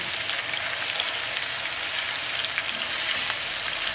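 A tuna steak sears in hot oil with rosemary in a pan, giving a loud, steady, close sizzle and crackle that runs unbroken with no talking.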